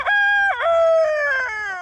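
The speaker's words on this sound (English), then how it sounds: "we have a collection of various ages of chickens" Chickens on a farm, led by a rooster crowing loud and near in a long drawn-out call with clucks around it, all standing alone with no voices.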